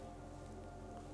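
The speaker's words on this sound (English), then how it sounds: "the only problem you have to deal with this video light is the fan noise" Steady broadband whir from the cooling fan of a Godox SL60 LED video light, a constant noise-like hum running evenly through the whole short stretch with no talk.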